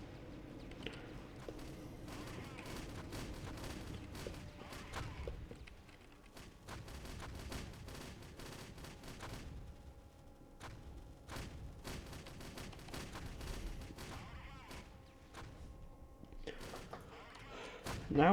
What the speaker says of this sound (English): it looks like we just got a burst of artillery rounds